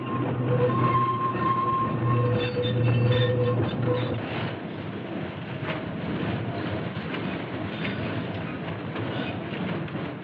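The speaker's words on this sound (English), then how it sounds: "Here's the train crossing 9th Avenue." A Key System Bay Bridge train rumbles steadily along the rails crossing 9th Avenue with a low droning hum, some faint squeals and clatter, loud and continuous throughout.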